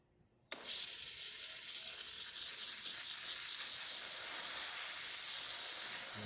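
A loud, steady hiss starts abruptly from the steam wand of a Breville Oracle Touch espresso machine after a moment of silence. It holds close and continuous to the end.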